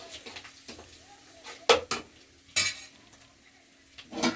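Small tomatoes drop into a frying pan of lightly fried chicken curry base: a few sharp, close clatters and splashes stand out over a quiet low sizzle.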